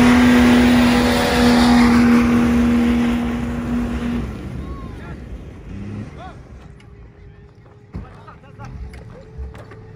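A car engine pulls hard in second or third gear with a loud, steady droning tone that drops away as it shifts and eases off, leaving quieter engine noise while a person talks over it.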